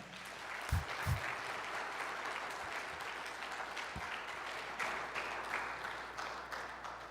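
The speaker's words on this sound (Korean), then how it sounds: "우리 목사님 나오실 때 큰 박수로 다시 한번 환영합니다." Steady church congregation applause welcoming a pastor at a revival service, many hands clapping throughout, a few louder claps standing out near the start, and no speech.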